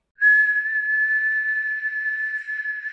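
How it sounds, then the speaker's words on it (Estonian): A single sustained whistle in a cartoon, a steady, clear, fairly loud tone holding one pitch for nearly three seconds after a brief silent start, with no talk. "Keel vilistab korraks"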